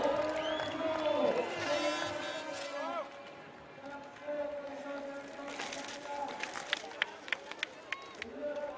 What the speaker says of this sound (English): the Czech crowd are already going wild.